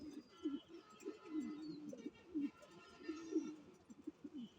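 Several caged pigeons, including a pair laying on two eggs and an Afsan grizzle, coo softly in repeated low throaty phrases, close by, with no talk.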